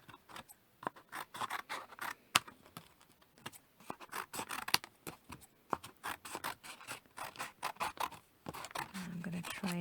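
Scissors cut through paper artwork in an art journal, trimming around a shape with rapid close snips and crisp paper rustles in an uneven rhythm.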